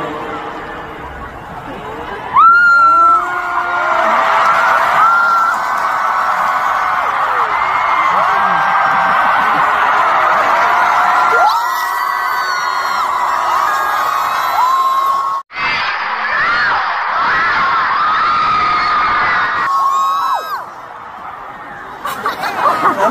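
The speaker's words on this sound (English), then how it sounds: "Look at the size of this sold-out crowd in the Tokyo Dome." A sold-out stadium crowd at a concert in the Tokyo Dome roars and screams in a sustained, dense wall of cheering, with a close voice talking and shrieking over it.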